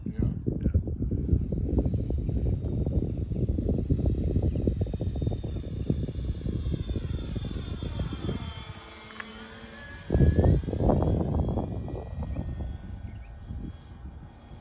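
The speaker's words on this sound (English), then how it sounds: "It's just a good flying little plane, and it looks good." An RC Carbon Cub model plane's engine drones steadily as it flies on a windy day. The pitch rises and falls as the plane passes, with a louder surge near the end and people talking over it.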